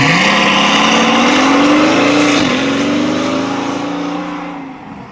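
A powerful V12 engine in a 2016 Mercedes S65 AMG revving and accelerating on the road, pitch climbing steadily, loud and close, then easing off and fading slightly toward the end.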